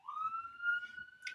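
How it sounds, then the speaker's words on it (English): An ambulance siren sounds in a snowy street, one rising wail that holds at a steady high tone, fairly faint and at a distance, with low traffic rumble underneath. "That was an ambulance"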